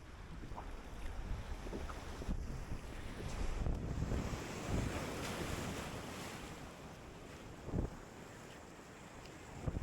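A Pyranha kayak paddles through moving water, with continuous rushing water and wind buffeting the microphone, plus occasional splashes from paddle strokes and no voices.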